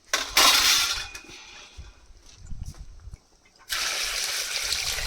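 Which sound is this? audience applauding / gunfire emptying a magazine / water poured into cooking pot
water poured into cooking pot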